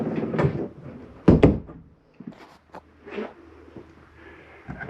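Doors and cupboards in a 2015 Jayco Eagle 306RKDS RV are shut and latched, a series of close, sharp thuds and clicks with a loud bang near the middle and quieter rattles between.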